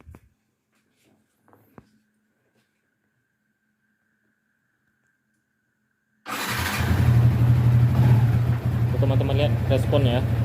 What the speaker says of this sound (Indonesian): Saya hidupkan mesinnya.